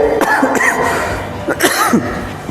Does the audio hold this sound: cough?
yes